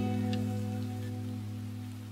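Steady rain falling in a soft, even hiss that fades slightly toward the end, with no voices over it.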